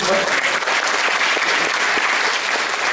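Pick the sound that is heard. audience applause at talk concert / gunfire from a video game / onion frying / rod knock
audience applause at talk concert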